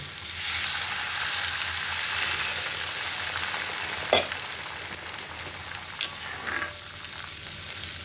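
Water hits a hot pan of frying rava upma, setting off a loud, steady sizzle, with a couple of sharp clinks and stirring scrapes partway through.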